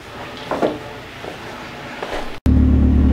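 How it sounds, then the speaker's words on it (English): Turbocharged Mazda Miata pulled out of a garage: quiet shuffling and rumble, then a loud, steady engine drone suddenly taking over for the last second, close to the microphone. "just pulling the car out of the garage so I can shut the garage door"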